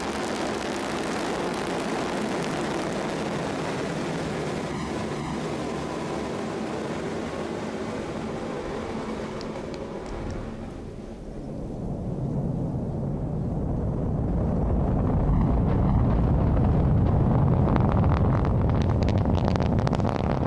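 An Ariane 5 rocket on flight VA260 fires its Vulcain engine and lifts off. A steady, broad wash of noise drops away, then a deep, loud rumble swells and keeps building toward the end.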